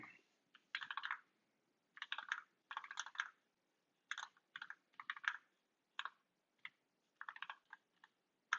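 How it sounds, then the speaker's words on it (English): Keystrokes on a newly built Zlant mechanical keyboard, clicking in short bursts and isolated taps with pauses between, close and fairly quiet, with no talking. "Okay, so let's do some typing."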